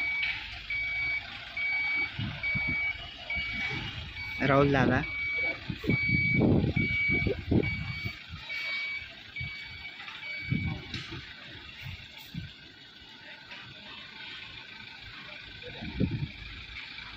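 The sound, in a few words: band truck reversing beeps while driven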